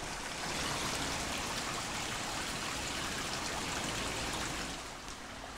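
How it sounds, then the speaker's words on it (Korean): A small stream runs between houses in Busan's hillside Sujeong-dong neighborhood, with a steady, close rushing and trickling flow and no voices. "이 물소리 들어보세요"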